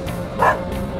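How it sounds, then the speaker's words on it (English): One short, sharp bark from a dog, loud and close, against a low steady background hum. "It's a dog."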